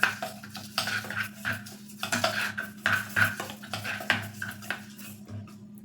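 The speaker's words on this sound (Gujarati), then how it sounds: "તો ઘી અને કોર્નફ્લોરને આપણે બરાબર મિક્સ કરી લેશું." Ghee and cornflour are beaten smooth in a bowl with a spoon, giving quick repeated clinks and scrapes against the bowl in an uneven rhythm, close and clear with no talking.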